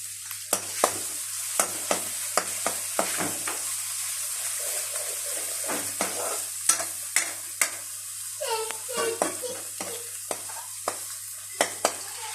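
Garlic and ginger paste frying in a pan with a continuous sizzle, punctuated by regular clinks and scrapes of stirring, heard close and with no voices.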